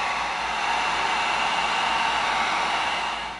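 A heat gun heat-seals EVA foam with a steady, close, even airy roar that holds for a few seconds before starting to fade.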